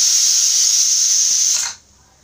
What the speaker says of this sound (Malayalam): ഇപ്പോൾ ഒരു വിസിലൊക്കെ വന്നിട്ടുണ്ട്.